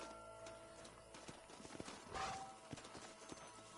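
Horses' hooves clop and shuffle on the ground as riders dismount in the Western video game Red Dead Redemption, a series of uneven thuds with a soft neigh, close and fairly quiet.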